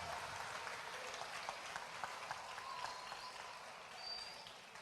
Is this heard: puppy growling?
no